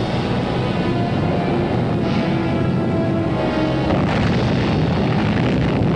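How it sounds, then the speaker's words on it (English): Underground atomic bomb blast, a dense continuous rumbling roar at high level throughout, with no talking. "Radioactive debris flies skyward from another underground explosion"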